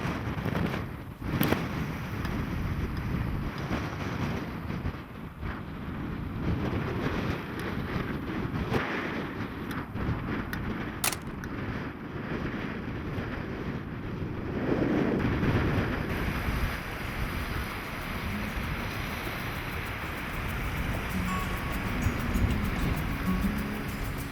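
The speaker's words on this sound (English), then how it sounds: "It is wicked windy up here." Strong wind buffets the microphone on an exposed stretch of Cape Cod coast, a constant loud roar with gusts, and surf washes faintly underneath; no one speaks.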